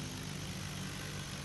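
A Swaraj tractor engine in a tractor video game strains to pull a John Deere, giving a steady, loud, low rumbling drone that holds without a break.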